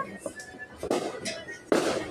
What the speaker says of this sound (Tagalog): Sila nagpa-fireworks na